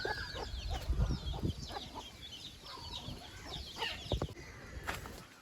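Naked neck chicks cluck and cheep in repeated short bursts, close and fairly quiet, several birds calling over one another with a few louder peeps and no one speaking.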